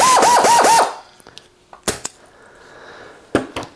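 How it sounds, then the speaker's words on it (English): An air ratchet, fed from a Goodyear retractable air hose reel, gives a short, loud, rapidly pulsing whir for under a second, then a few sharp clicks and knocks in otherwise quiet surroundings. "when I want to use, my air ratchet"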